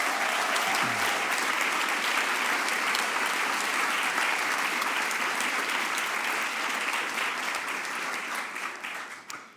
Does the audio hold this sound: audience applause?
yes